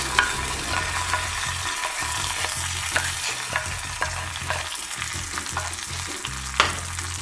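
Roasted ingredients tossed into a hot pan for thair semiya, frying with a constant sizzle and repeated stirring scrapes, close and steady with no voices.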